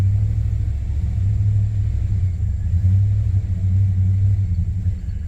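Engine of a 2000 Chevy Express van that had trouble starting, running steadily with a deep low rumble and slight swells as it is revved, loud and close, with no talking.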